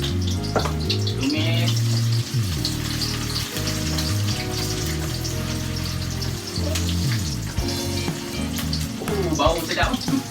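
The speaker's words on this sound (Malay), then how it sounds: "kita akan tumis dulu bawang putih, bawang merah" Garlic and shallots sautéing in hot oil for a prawn sambal with petai, a steady close sizzle running throughout with stirring and a few scrapes, and music playing over it.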